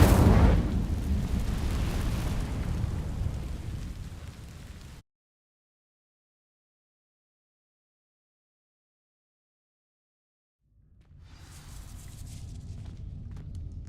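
Hogwarts Legacy's Incendio fire spell bursts into dry vines with a loud roaring whoosh that cuts to sudden silence, then fire crackles back in at moderate level.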